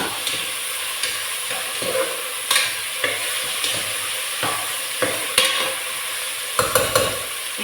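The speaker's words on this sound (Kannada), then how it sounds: "ಈಗ ನಾನು ಒಳ್ಳೆದು ಮಿಕ್ಸ್ ಮಾಡುವ" A spoon stirs frying masala with green chili in a pan for a mutton gravy, giving a steady sizzle broken by repeated scraping strokes, near and alone with no talk.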